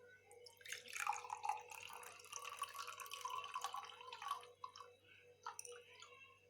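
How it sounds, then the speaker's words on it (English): Water poured gently from one beaker into another during a sedimentation and decantation experiment, a soft continuous trickle with light splashy drips, faint and close, with no talking. "Now we will be gently pouring this water into another beaker."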